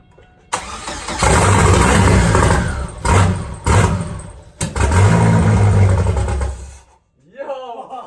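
A turbocharged Chevrolet Cavalier starts for the first time. The engine cranks, catches and revs loudly up close, stumbles and picks up again through several surges, then cuts out, while people talk in the background.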